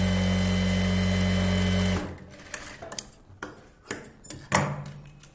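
A sewing machine runs in a steady, loud whir while stitching blouse lining cloth, stopping after about two seconds, followed by quieter handling clicks and rustles of fabric.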